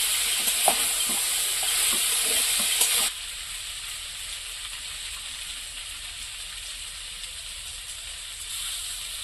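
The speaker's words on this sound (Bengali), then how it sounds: "বাটা লঙ্কা দিয়ে মোচন মাছ রান্না হচ্ছে" Mochon river fish fries in chili paste with taro in a pan: a loud, steady hiss and sizzle, with light stirring scrapes at first, then settling into a quieter, constant frying hiss with no talking.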